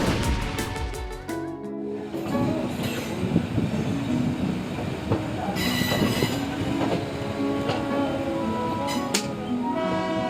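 A train runs along the railway in Jharkhand, its wheels squealing and clattering over the rails as the wagons roll past close by, loud and steady without talk.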